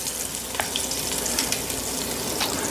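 Pork for BBQ pulled pork searing in a hot pan, a dense, even hiss of sizzling oil heard up close and unbroken, with a few faint clicks of utensils and no voices.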